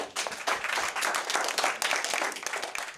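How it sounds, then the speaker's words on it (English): An audience gives a round of applause, dense steady clapping from many hands that stays even for a few seconds. "Give her a round of applause."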